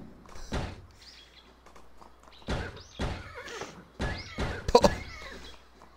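Horse neighing and whinnying in a video game, several drawn-out cries separated by short pauses, fairly close, with a few thuds mixed in and no speech.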